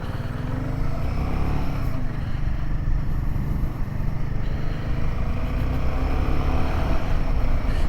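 A 2024 Royal Enfield Himalayan 450 motorcycle's engine drones steadily while riding, a loud continuous rumble with a faintly rising pitch and wind noise, recorded close up from the rider's position.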